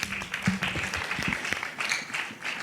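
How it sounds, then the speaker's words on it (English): An audience at a youth vocational competition gives a team a round of applause, a thinner, uneven patter of claps with some voices mixed in, fairly close. "Let's give them another round of applause, please."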